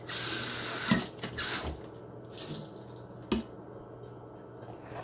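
Water from a tap runs and drips into a sink during a rinse, with splashy bursts and a few louder drips over a steady close hiss, without speech.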